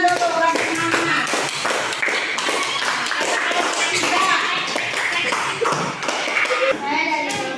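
A school class claps together in a classroom, a fast run of taps and slaps mixed with children's voices talking and calling out over it.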